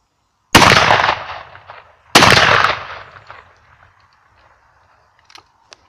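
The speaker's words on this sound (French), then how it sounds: "On commence de tirer avec le canon du bas et après le canon du haut." Two loud blasts from a 12-gauge over-under shotgun loaded with number 6, 32-gram shot, the lower barrel fired first and the upper barrel about a second and a half later, each followed by a fading echo.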